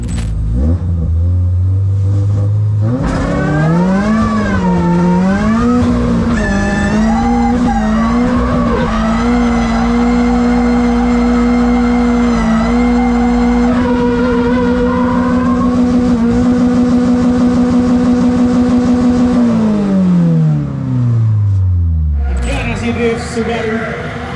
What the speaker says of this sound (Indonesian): sekarang kita akan lihat test run dari Farel sebelum kualifikasi